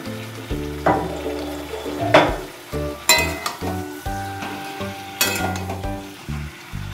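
Chicken frying with snake gourd in a pan, a sizzle laced with repeated stirring scrapes and knocks, the strokes coming in an uneven rhythm, close and fairly loud. Music plays underneath.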